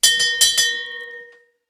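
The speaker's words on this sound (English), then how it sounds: "Marlon, shall I ring the bell? Ring the fucking bell." A small bell rung on a podcast set: four quick bright strikes in succession, close and clear, followed by a shimmering ring that fades away over about a second.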